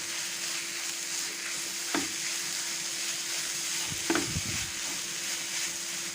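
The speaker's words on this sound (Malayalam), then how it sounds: "ഇതിനൊന്ന് നന്നായിട്ട് നമുക്ക് ഇളക്കി മിക്സ് ചെയ്ത് കൊടുക്കാം" Grated potato sautés in a pan under a soft, constant sizzle, with two brief scraping stirs of a spoon against the pan.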